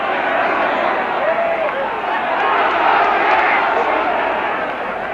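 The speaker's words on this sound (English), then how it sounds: "listen to the cheer at the first victory in the air for Wales" A large football crowd at a 1972 Wales versus England match roars in a steady, swelling cheer, a broad wash of massed voices rising and falling with a commentator talking over it.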